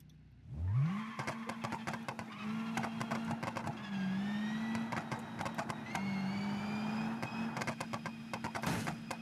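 A video game street car fitted with a custom exhaust starts up, rises into a steady idle drone and revs, with repeated sharp pops and crackles layered over it. Close and continuous, with no talking.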